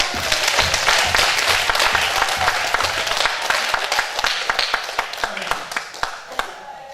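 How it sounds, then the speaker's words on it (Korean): A church congregation claps together in a full burst of applause that gradually thins into scattered individual claps. "또 하나님께 영광의 박수 한번 드리시겠습니다"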